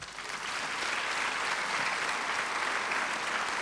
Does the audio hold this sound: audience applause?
yes